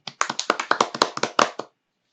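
A short burst of hand clapping, about a dozen sharp claps in a quick, slightly uneven rhythm, close and clear, then silence.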